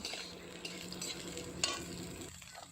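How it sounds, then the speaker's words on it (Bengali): Potato and cauliflower pieces fry together in a pan, a faint steady sizzle with quiet scraping stirs and a small metallic tap. "ফুলকপি আর আলু একসঙ্গে ভাজা ভাজা করে নেব"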